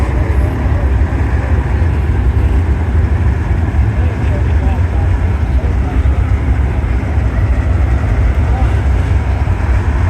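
Nitro-fuelled racing engines at a racetrack make a loud, continuous roar throughout, dense and unbroken, with wind-like noise over the microphone.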